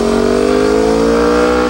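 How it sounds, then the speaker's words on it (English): Sport bikes race past on winding North Georgia mountain roads, a loud sustained engine howl with rising pitch as one machine screams close by. "It didn't take long to find them screaming by as they passed us over and over and over again"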